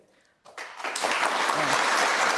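An audience at a televised political debate breaks into applause, starting abruptly after a moment of quiet and swelling into steady, dense clapping that fills the rest of the clip.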